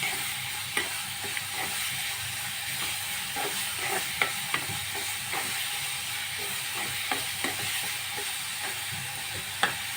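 Beetroot, carrot and grated coconut mixture sautéed and stirred in a pan, giving a steady low sizzle with scattered sharp scrapes and taps of a spoon against the pan, close and continuous throughout.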